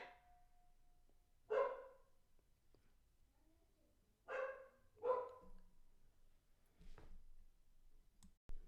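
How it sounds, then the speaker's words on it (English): A dog barks a few times at moderate distance, three or four sharp woofs separated by quiet pauses in an otherwise still setting. "That's my dog. That's my dog."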